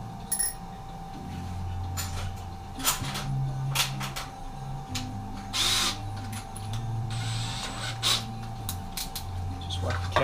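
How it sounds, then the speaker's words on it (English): A drill countersinks a hole to remove burrs during a Bridgeport mill readout install, giving short intermittent bursts of whirring against a steady electrical hum in a quiet workshop. "Countersink on there, just to take any burrs off."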